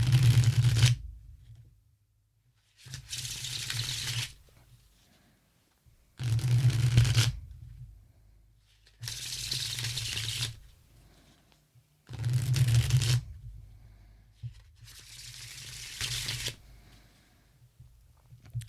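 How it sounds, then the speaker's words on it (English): A linen-finish tarot card deck is shuffled in five separate bursts, each a crisp riffling flutter lasting about two seconds, close and clear, with short quiet gaps between them. "I hope the sound of that shuffle came out well, because these cards are like a tactile experience."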